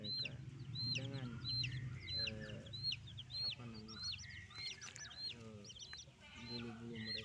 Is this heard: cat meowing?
no